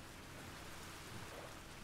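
Rain falls in the Minecraft video game, a faint, even hiss of steady rainfall with no distinct drops or pauses and no talking.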